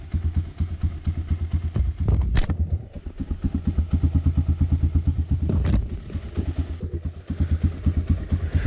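A motorcycle engine idles roughly and unevenly after a fuel tank treatment, its loud pulsing beat close by with a few sharp clanks and thumps mixed in.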